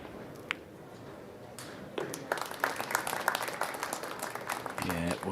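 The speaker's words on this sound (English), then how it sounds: "Yeah, well-deserved round of applause" Spectators at an evening pool match in Las Vegas break into applause after a clutch finish, dense clapping swelling in after a quiet moment, with commentators talking over it.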